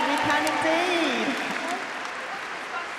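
Audience applause and cheering at a dog agility run as a dog and handler finish a clear round, a steady broad wash of clapping with commentary voices over it, easing slightly toward the end.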